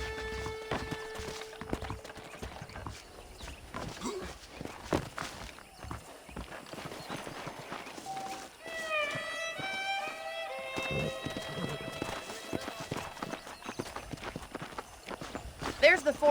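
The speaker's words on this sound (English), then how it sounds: "The horses are saddled up over here." Horses clip-clop along at a walk in the Red Dead Redemption game, with irregular hoof clops under a voice and ambient music or tones drifting in the middle.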